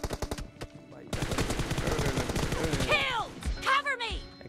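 Rapid automatic gunfire in the mobile shooter Battlegrounds Mobile India during a team deathmatch, long dense bursts of close shots with a short pause, then sweeping whooshing effects and scattered louder blasts.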